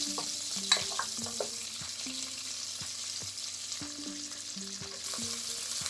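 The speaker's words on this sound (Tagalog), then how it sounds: "Stir well." Chicken kabsa rice is stirred in a hot pan, with a steady sizzle beneath repeated scraping and clinking from the spoon against the pan.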